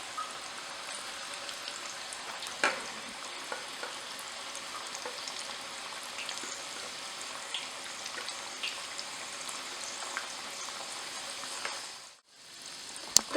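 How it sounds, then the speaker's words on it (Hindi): Muthia, Gujarati fenugreek dumplings for Surti undhiyu, deep frying in hot oil, a steady dense crackling sizzle that continues evenly with faint bubbling pops, then briefly drops away near the end. "तो इस तरह से हमें गोल्डन ब्राउन होने तक इस सारे मुठिए को फ्राई कर लेना है।"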